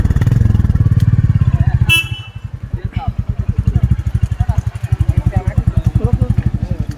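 A Royal Enfield Bullet motorcycle thumps loudly up close with a steady, slow single-cylinder beat, then picks up into a regular pulsing rhythm as it rides off, with a voice talking over it.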